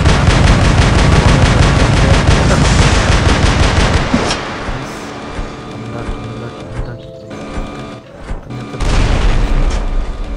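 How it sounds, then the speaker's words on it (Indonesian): Rapid bursts of gunfire from a war robot video game, loud and dense for the first four seconds, then thinner scattered shots and booms before heavy firing resumes near the end. "kita tembak dari atas"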